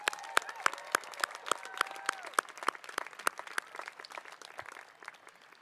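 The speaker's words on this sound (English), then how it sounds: "Let's give him a big round of applause." A commencement ceremony audience claps for a graduate, distinct sharp claps ringing out across a large venue and gradually thinning toward the end.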